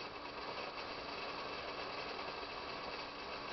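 Rain falls in a video game parkour map as a steady, even hiss that holds unchanged throughout, with no voices over it.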